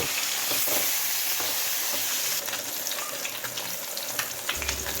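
Fish fries in hot oil in a wok, for a fish curry with cauliflower, giving a loud, steady sizzle and crackle that fills the whole stretch with no voices.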